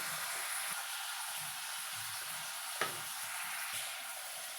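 Potatoes and paneer for a vegetarian curry fry in hot oil with a steady, close sizzle and occasional stirring scrapes, plus one sharp clink partway through.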